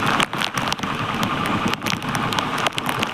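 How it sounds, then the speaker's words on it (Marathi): Heavy monsoon rain pours steadily near the Sateri Mahadev temple in the hills near Kolhapur, a dense, loud, continuous hiss with patters of drops on surfaces throughout. "एवढा पाऊस आहे"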